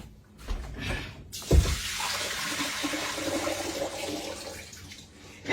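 Liquid vinegar pours off strawberries into a kitchen sink, a steady splashing gush after a short knock, running for several seconds at moderate volume without talk.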